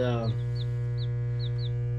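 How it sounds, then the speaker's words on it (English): Young chicks give soft chirpy peeps repeated several times over a steady low hum, following a brief harmonic sound at the start. "that's one of our newest little projects, is raising some chicks"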